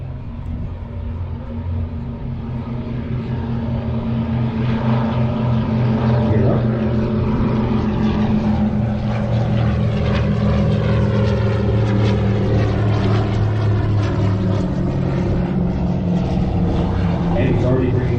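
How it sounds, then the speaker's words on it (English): Propeller aircraft engine roaring steadily through takeoff and a shallow climb-out at a formation flight event, loud and continuous throughout with a voice talking over it. "And he's already bringing the propeller RPM back and the manifold pressure back as well."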